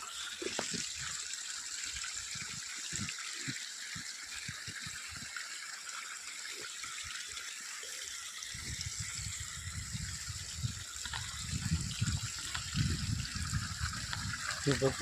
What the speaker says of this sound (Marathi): 32 mm नळानं सुद्धा आपण अशा पद्धतीने देऊन एक पाणी देऊ शकतो